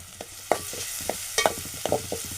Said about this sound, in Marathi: पण हे जरा मी ढवळून घेतो